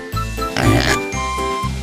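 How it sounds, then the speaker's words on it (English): A short pig oink or grunt sounds once near the middle, set against steady music in the background. "Pig,"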